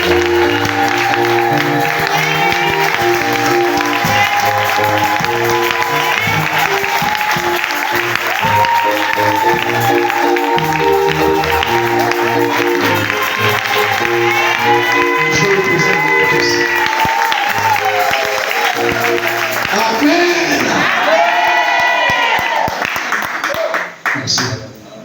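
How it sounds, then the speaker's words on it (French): A church congregation bursts into loud, sustained applause and cheering, dense clapping over music and voices that continues without a break, with a brief surge of shouts near the end. "Je vous prie d'acclamer très fort pour papa"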